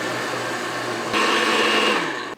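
A kitchen blender whirs steadily, puréeing roasted squash with broth, then its motor pitch rises to a louder, higher whine before abruptly cutting off.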